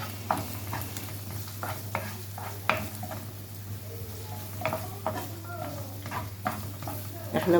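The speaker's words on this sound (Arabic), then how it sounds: "انا كنت مسخناها، وهنزل عليهم بصلايه مقطعه" Chopped onion hits a preheated pan and fries with a steady sizzle, broken by scattered scraping and stirring clicks close by, while herring is being cooked.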